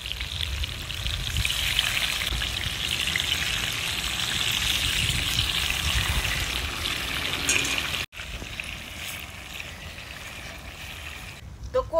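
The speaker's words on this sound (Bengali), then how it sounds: "কই মাছ ওইদিকে ভাজা হোক" Koi fish fillets frying in a pan over an outdoor wood-fired clay stove in a garden, a steady broadband sizzle running throughout, briefly cut near the end, with faint background noise.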